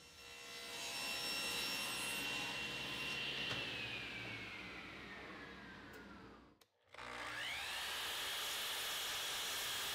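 Saw ripping a wood board lengthwise to width for a writing desk apron, a steady loud whine held for several seconds before a short break, then cutting noise resumes, alone without speech.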